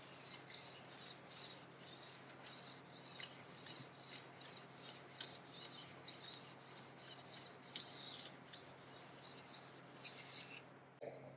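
A diamond stone rasps back and forth across a steel ski edge in a steady, quiet rhythm of short repeated strokes, close up with no voices.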